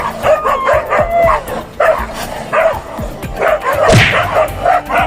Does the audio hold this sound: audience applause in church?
no